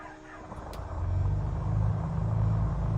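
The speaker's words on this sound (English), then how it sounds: "right engine is starting" Right engine of a Piper Seminole PA44 twin-engine light aircraft starting in Microsoft Flight Simulator 2020, a low rumble building up after a second and settling into a steady engine drone.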